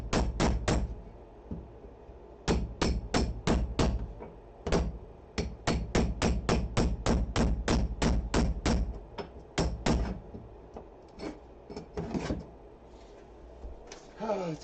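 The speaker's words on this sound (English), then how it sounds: "I gotta get a wood chisel" A wood chisel is struck by a hammer again and again to pry up a plywood subfloor in a school bus conversion, producing sharp, loud blows in rapid bursts separated by short pauses, with occasional voices in between.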